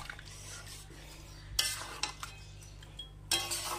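Spicy chicken curry with masala being stirred in a pan, with a few spoon-and-pan scrapes and clinks standing out against a steady low hum and faint background noise.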